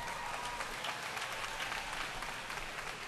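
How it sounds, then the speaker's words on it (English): A large audience at a high school graduation applauds the chorus, a dense, steady wash of clapping that fills the hall at even loudness throughout, with no voices rising above it. "Let's give them another round of applause."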